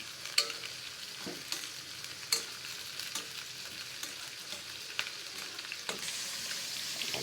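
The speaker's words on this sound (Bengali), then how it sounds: "এই তেলটা গরম হয়ে গেছে, এখন মাছগুলা দিয়ে দেব।" Fish frying in hot oil with sliced green chillies, a soft continuous sizzle punctuated by occasional sharp spatula taps and scrapes, close but fairly quiet, with no one speaking.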